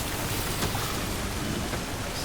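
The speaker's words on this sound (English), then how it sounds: "The rain's falling hard though" Heavy rain pours in the video game Death Stranding, a loud, dense, unbroken roar of falling water filling the whole stretch with no talking.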